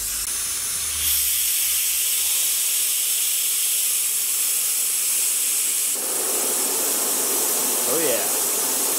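A compressed-air mist coolant sprayer on a belt grinder hisses loudly and continuously, its pitch and strength shifting partway through as the air flow changes, with no talk over it.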